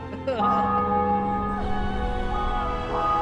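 Church bells ring in the video game The Witcher 2, a sustained, loud peal with long resonant tones that hold steadily through the whole stretch, with a faint voice underneath.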